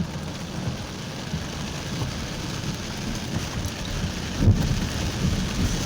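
Heavy rain pours in a dense, steady hiss, with one brief louder thump partway through.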